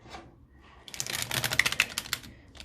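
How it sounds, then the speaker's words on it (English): Small tarot cards are shuffled in a quick riffle, giving a dense, close, rapid patter of crisp clicks that starts after a brief quiet and continues alone without talk. "I hate shuffling these tiny, tiny cards."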